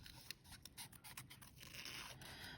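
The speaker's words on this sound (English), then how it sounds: "It's not that hard to cut around this." Scissors snip around a paper stamped zebra image for a juvenile greeting card, a quick series of close, crisp cuts and rustles at a fairly faint level.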